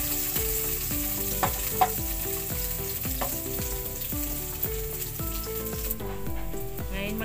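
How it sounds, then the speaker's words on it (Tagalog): Onion sautéing in a pan right after garlic for a Filipino vegetable stir fry, a steady sizzle with light stirring scrapes, under repeating background music and with no talk. "ngayon susunod ko na igisa yung sibuyas."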